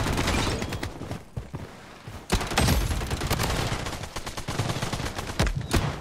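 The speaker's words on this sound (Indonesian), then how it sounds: "Banyak tembakan di mana-mana ini." Bursts of gunfire from the shooter video game Blood Strike crackle in rapid fusillades, with sharp loud volleys and quieter gaps between them.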